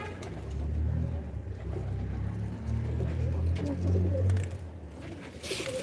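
A pigeon coos on a rooftop while tangled in kite string, giving low, soft, repeated coos over a steady rumbling background, with no talking.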